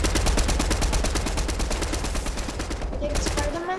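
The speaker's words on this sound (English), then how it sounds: "Now he just spams the grenade launcher." A grenade launcher in the Fortnite video game is spammed in a fast, even string of loud, sharp bursts, shot after shot close by, tailing off near the end.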